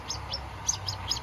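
Small chick chirps repeat in quick, high peeps, about five short calls at a steady pace, close and fairly soft.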